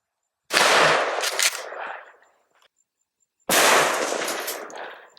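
A 12 gauge shotgun loaded with buckshot and a flight control wad fires two loud, sharp blasts about three seconds apart, each with a short ringing tail at an outdoor range.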